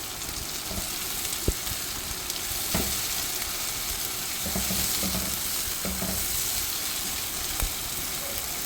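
Ground paste of green chillies, tomato and green coriander frying in a pan for a Konkani wedding dish, a steady close sizzle with occasional stirring clicks and scrapes throughout, no talking.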